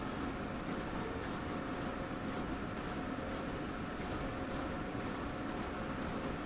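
Train running along the track in Train Sim World 3, a continuous broad rumble and rattle that holds steady throughout, fairly faint, with no voices.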